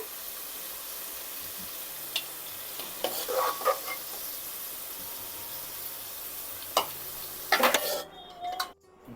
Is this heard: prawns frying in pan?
yes